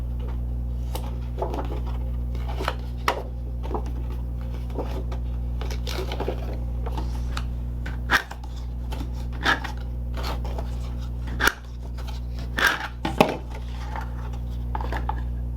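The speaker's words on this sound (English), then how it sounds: "The first thing that I'm going to do is fold and burnish the score lines on the outside box piece." Paper card-box piece being folded along score lines and burnished with a tool, giving scattered soft creases, scrapes and sharp taps close by over a steady low hum, with no talking.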